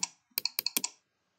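A handful of crisp, close clicks from a computer mouse, quick and evenly spaced, in a quiet room.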